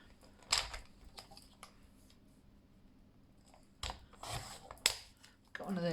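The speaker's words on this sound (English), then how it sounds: "I'll cut one of these tickets off" Scissors snipping a paper ticket from a strip, a few short crisp cuts spaced across a quiet tabletop scene, with light handling noises and a brief voice at the end.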